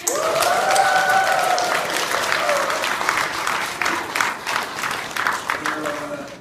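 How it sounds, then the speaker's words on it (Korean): A church congregation at a Chuseok service in Muan applauds and cheers, steady dense clapping with shouts under it, and a voice speaking over the noise near the end. "가장 잘했다고 생각하시는 분은 환호 박수"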